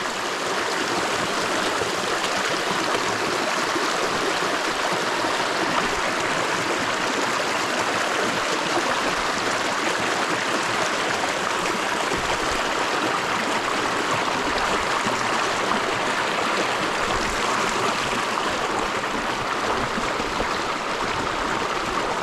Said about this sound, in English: a little rushing water